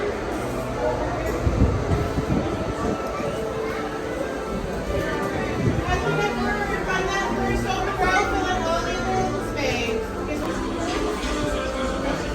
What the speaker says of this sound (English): something that we haven't done since it reopened is go ride the train